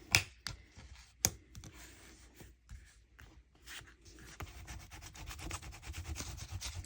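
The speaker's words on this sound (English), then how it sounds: "I'm going to use my foam folder. We're getting this pressed down." A foam folder rubbing and pressing paper down for a small mini album, soft close scraping strokes with a couple of sharp taps at the start, then quicker rubbing passes.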